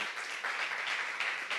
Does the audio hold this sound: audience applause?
yes